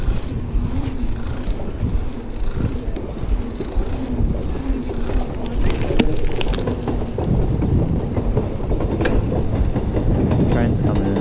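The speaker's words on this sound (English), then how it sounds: "Train's coming in." A train pulls into a station with a steady low rumble and rolling wheel noise, a few sharp clacks and squeals rising over it, while a person talks nearby.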